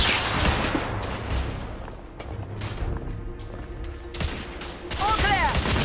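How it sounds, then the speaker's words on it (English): Sustained suppressive gunfire in the video game The Order: 1886 forms a dense, continuous volley of shots with mechanical clatter. It sounds fairly close, with battle noise and voices mixed in. "Lay down suppressive fire."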